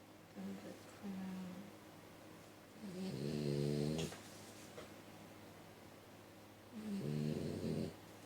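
A sleeping puppy snores close by in three drawn-out, wheezy breaths spaced several seconds apart, with a low background hum between them.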